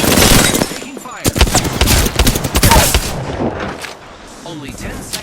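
Rapid automatic gunfire in Apex Legends on PS5, loud bursts of close shots clustered in the first half, then fading into lighter scattered fire and game noise.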